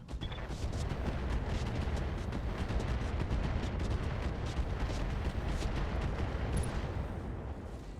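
Heavy artillery fire pounds down in modded Battletech (Roguetech), a steady roar of overlapping booms and rumbling blasts that carries on for several seconds with no talk.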